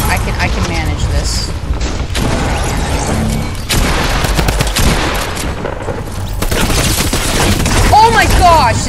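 Rapid bursts of laser-gun fire from a secret weapon in an Epic shooter video game, loud and continuous with booming impacts and mechanical clatter throughout.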